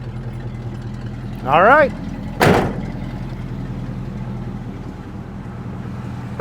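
A 1980 GMC K5 Jimmy with new battery cables cranks briefly and fires up, then settles into a steady idle rumble close by, with a short spoken remark near the start.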